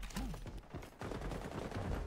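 A shotgun fires in the online shooter XDefiant: a few booming blasts and bursts of gunfire, mixed with other game sounds, at close range.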